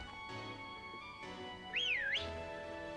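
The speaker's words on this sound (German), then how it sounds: "Mit dem Druck auf die Steuerung pfeift man." A character in Pokémon Sword gives one short rising-and-falling whistle, a clear wavering tone lasting about half a second over soft in-game background music.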